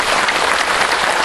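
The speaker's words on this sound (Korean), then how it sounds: "우리 한번 박수 쳤습니다" An audience at a political rally in Daegu applauds in a loud, dense, continuous burst of clapping, steady for the whole moment without speech.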